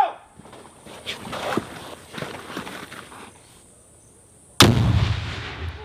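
A frag grenade blows up during Marine training after several seconds of faint rustling and footsteps. The explosion is a sudden loud blast that fades into a rumbling tail.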